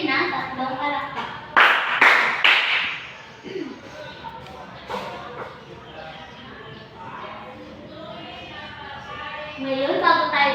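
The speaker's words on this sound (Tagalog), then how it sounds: "Bigyan niyo ang inyong sarili ng tatlong palakpak" Students in a home economics class clap three times in quick succession, sharp close hand claps near the start, followed by children talking and classroom chatter.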